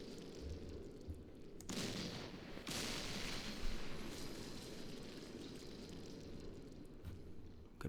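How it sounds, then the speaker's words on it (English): Enemy tanks returning fire in a Middle East war strategy game, a faint, dense rumble of gunfire and explosions with sharper booms near two and three seconds and again near seven. "the enemy tanks are returning fire"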